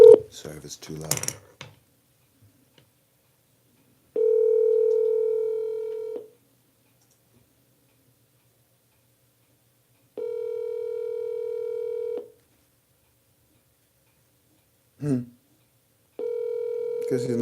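Telephone line during a call: a brief burst of keypad dialing tones, then repeated steady ringback tones of about two seconds each separated by silences, clear and alone with no talk over them.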